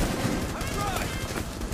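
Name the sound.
gunfire in the video game Rainbow Six Siege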